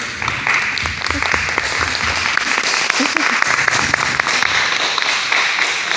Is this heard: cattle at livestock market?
no